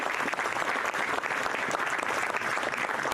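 Sustained applause from an audience at a speech by Missouri Governor Mike Parson, honoring law enforcement officers; dense steady clapping throughout, with no talk over it.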